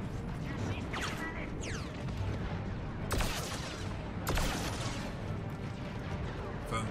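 Blaster gunfire from Star Wars Battlefront 2 gameplay: a few sharp shots stand out, with two loud cracks near the middle, over busy game noise and mechanical clatter.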